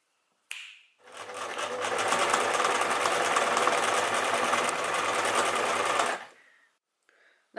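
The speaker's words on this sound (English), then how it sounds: "I'm ready to go sewing now." A sewing machine stitches a Viking tunic in one steady, loud run of about five seconds, the motor's rapid needle chatter continuous from start to stop, with brief faint noises before and after.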